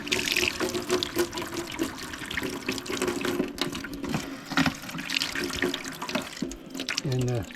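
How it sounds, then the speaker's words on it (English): Water runs from a small outdoor sink tap fed by a pump-supplied cold line, a steady splashing flow close by with some background noise and faint voices. "We have a little outdoor sink here."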